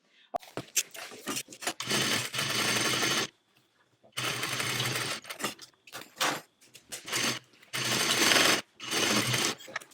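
Sewing machine top stitching a tote bag, running in several sustained bursts of rapid needle chatter separated by pauses with faint handling noises, close up.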